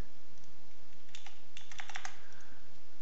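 Quick bursts of computer keyboard typing while Java code is written in NetBeans, soft clicky keystrokes in short clusters over a quiet steady hiss, no voices.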